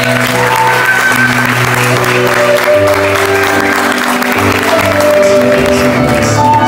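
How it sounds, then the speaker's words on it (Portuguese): Dense, steady applause fills a 15th birthday party hall, with sustained musical tones ringing underneath throughout. "nossos aplausos."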